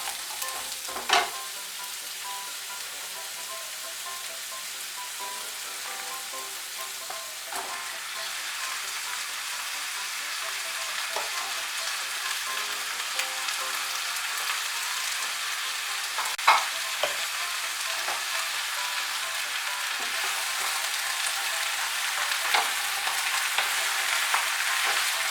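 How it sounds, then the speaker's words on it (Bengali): Mixed vegetables fry in a pan for a Bengali pui shak sabji, a steady close hiss of sizzling oil with occasional clacks of a spatula stirring, the frying growing slightly louder over time; no voices. "সবজিগুলো দিয়ে একটু নাড়াচাড়া করে নিয়ে এর মধ্যে পুঁই শাকগুলো দিয়ে দেব।"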